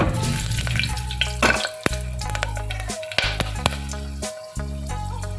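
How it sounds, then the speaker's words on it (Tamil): Cinnamon, cloves and cardamom drop into hot ghee in a home kitchen pan, bursting into a crackling sizzle punctuated by sharp clicks and spatters, with no talking. "நெய் நல்லா காஞ்ச உடனே பட்டை, கிராம்பு, ஏலக்காய் இதெல்லாம் போட்டுடலாம்."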